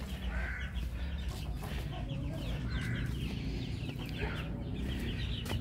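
A hen, ready to lay eggs again, clucks repeatedly in short bursts at close range over a steady low farmyard hum, with no talking.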